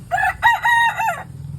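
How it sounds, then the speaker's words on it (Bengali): A rooster crows once, loud and close, a long ringing call lasting about a second over quiet background at a village chicken coop. "আমাদের মুরগ মুরগি দেখেন"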